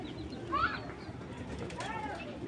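A healthy red fire-eye racing pigeon in a loft coos softly in a few short, low calls, with a faint, noisy indoor background and the sense of someone nearby.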